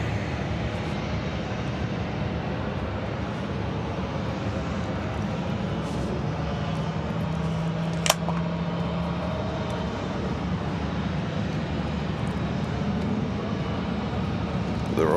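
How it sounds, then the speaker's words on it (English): FedEx jets starting up together at Atlanta Hartsfield-Jackson airport, a steady broadband engine roar with a low hum, continuous and moderately distant throughout, with a brief high whine rising near the middle. "So that noise you hear is these FedEx over here have fired up their batteries"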